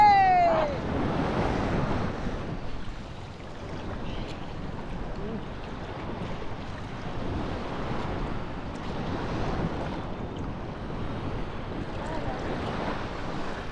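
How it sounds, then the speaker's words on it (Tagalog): Strong surf rushes and roars continuously against the beach at Candelaria, Zambales, with wind buffeting the microphone, a faint voice briefly heard at the start. "Yung malakas din yung alon ah."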